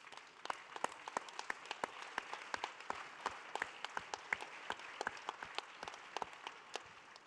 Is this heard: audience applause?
yes